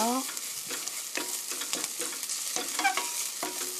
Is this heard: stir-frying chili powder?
yes